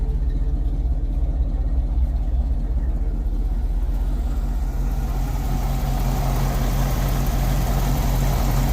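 A 1978 Chevy C10 Squarebody pickup with a newly rebuilt carburetor, sitting unused for several years, fires up and settles into a loud, steady idle that rumbles close by and grows fuller partway through.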